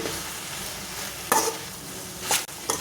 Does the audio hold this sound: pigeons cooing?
no